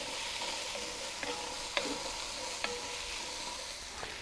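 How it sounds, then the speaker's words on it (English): Onions sauté in a hot Camp Chef 12-inch Dutch oven, a continuous close sizzle punctuated by a few scraping stirs and light metallic taps, no voices. "I like to cook my onions first to start releasing some of those aromas"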